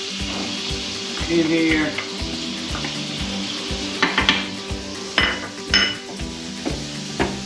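Garlic hits a pan of cooking jalapeño bacon jam with a loud sizzle, steady frying crackle underneath, punctuated by sharp clinks of a utensil against the pan; a voice speaks briefly over it.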